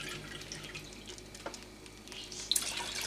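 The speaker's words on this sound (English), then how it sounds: "and a cup of water." A cup of water poured into a shrimp and crab dip with spinach and heavy whipping cream: quiet, splashy trickling and a few soft drips, with a sharper splash near the end and no voices.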